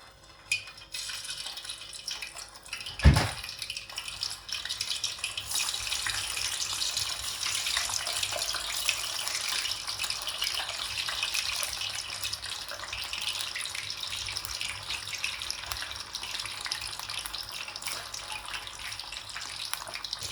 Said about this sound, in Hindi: यहाँ पे मैंने घी गरम कर दिया। अब मैं एक एक पीस इसके अंदर ऐसे डालती जाऊंगी।